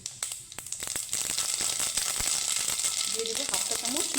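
Black mustard seeds hitting hot oil in a wok, a close, steady sizzle with scattered sharp pops and crackles building after the first second.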